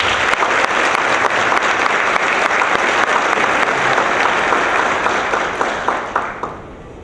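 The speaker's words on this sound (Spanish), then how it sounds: "Yo quiero que les demos otra vez un fuerte aplauso." An audience at an international conference on access to information gives loud, dense applause that holds steady, then thins out and fades in the final second.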